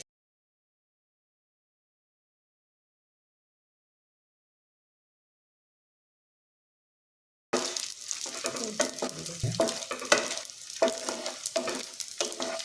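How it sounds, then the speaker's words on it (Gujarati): Edible gum fries in hot ghee with a crackling sizzle and bubbling that begins abruptly after a long silence, then continues steadily at close range. "તો ઘીમાં આપણે અહીંયા ગુંદરને તળી લઈશું"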